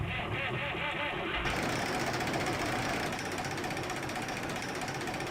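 Tractor engine running in Farming Simulator 19, a steady loud rapid knocking drone with a dense mechanical rattle that holds unchanged throughout.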